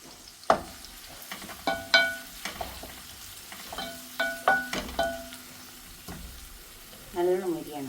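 Onions frying in hot oil for a beef roast, with intermittent sizzling bursts and clinks of a spoon stirring the pan, fairly quiet and close, broken by brief louder scrapes.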